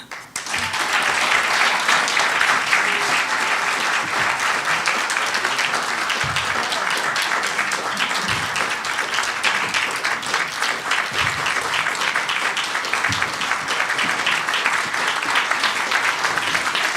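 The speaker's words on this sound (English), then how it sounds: "I'm going to ask everyone for a little more applause" An audience at a Rotary Citizen of the Year ceremony gives long, sustained applause, a loud steady roar of many hands clapping for about seventeen seconds without talk.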